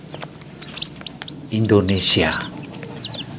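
Young chicks kept by twin students in Bau-Bau, Southeast Sulawesi, give repeated thin, high peeps at close range. A voice speaks over the peeping partway through, and a few louder chirps follow afterward.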